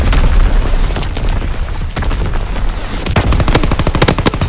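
Gunfire and mortar explosions in a WW2 video game, a loud continuous barrage of rapid automatic shots layered over heavy booming blasts, with no talking.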